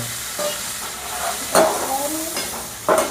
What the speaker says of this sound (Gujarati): હવે આપણે એમાં નાખી દઈશું મસાલો જે મિક્સ કર્યો હતો